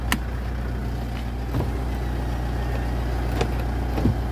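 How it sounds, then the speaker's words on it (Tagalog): A 2011 Mitsubishi Montero GLX engine idles steadily with a low, even hum, with a few faint clicks and knocks over the top and no speech. "Papacheck ko po sa inyo yung kanyang makina."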